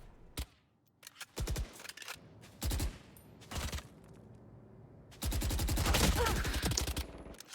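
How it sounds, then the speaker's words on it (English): Repeated bursts of gunfire during a competitive Valorant match at the Yuletide Brawl NA group stage, short volleys spaced apart, then a long sustained barrage near the end. "Shots exchanged and still no kill."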